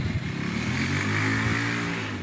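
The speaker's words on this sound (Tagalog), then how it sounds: "Di pa kapangas ang motor ni Sherwin kasi basang-basa ang dalan" Motorcycle engine running on a soaked, wet road, a steady close rumble with slight revving throughout, heard alone without talk.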